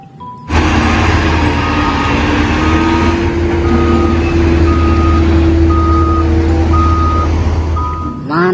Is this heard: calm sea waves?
no